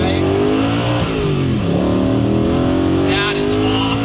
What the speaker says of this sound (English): you're still getting a high, like a high revvy happy V8